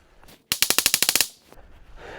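A .22 Long Rifle is fired at a tree in a rapid string of about ten sharp, loud cracks, followed by a few fainter, quicker pops as the volley trails off.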